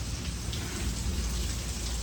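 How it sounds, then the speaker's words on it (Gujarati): Steady rain pours down, a dense continuous hiss of drops hitting surfaces with no voices. "વરસાદ ચાલુ છે"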